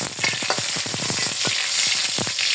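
Garlic sautés in a pan for a Filipino chicken adobo with chayote, a bright continuous sizzle broken by quick stirring taps and scrapes, close and fairly loud.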